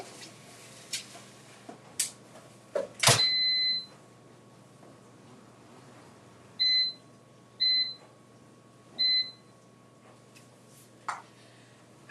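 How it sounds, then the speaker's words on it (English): An air fryer beeps when done: one longer tone followed by three short evenly spaced beeps, fairly clear in a quiet kitchen with a few faint clicks and knocks. "anytime anything starts beeping around here like it's done"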